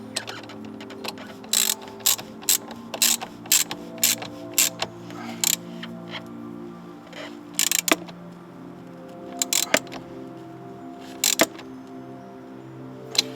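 Ratchet wrench tightening a battery terminal on a boat, heard as bursts of quick metallic clicks in uneven groups with short pauses between them, close up over a low background hum.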